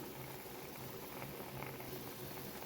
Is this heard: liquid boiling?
yes